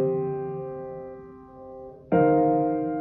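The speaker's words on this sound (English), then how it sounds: "Start by recording four sustained piano chords." Four sustained piano chords run through a compressor at about a 4:1 ratio, with a flattened, compressed sound; a soft held chord fades slowly, then a louder chord enters and holds evenly before cutting off.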